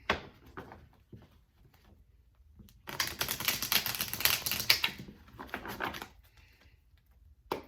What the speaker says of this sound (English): Now I'm going to pull some tarot. I'm going to use the Mind's Eye deck